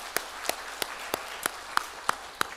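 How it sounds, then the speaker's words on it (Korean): Scattered, sparse claps from a church congregation during a Thanksgiving Sunday service, honouring the choir; about eight separate sharp hand claps spaced evenly at a moderate distance, rather faint, with no talking. "우리 박수를 한번 올려드리겠습니다"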